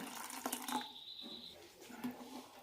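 A short, faint splash of water is poured into besan dosa batter in a bowl, a brief trickling pour that is soft and near.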